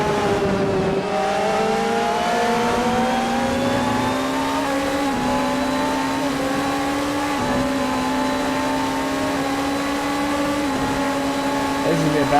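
Onboard engine note of a GT3 race car in a sim racing game at Donington, a steady high revving drone with gear changes and brief lifts, loud and continuous, with commentary voices talking over it.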